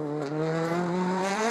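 Dani Sordo's Hyundai rally car at Rallye Monte Carlo 2014, its engine holding a loud, steady, high-revving note with slightly rising pitch as it sweeps past close by, with no voices.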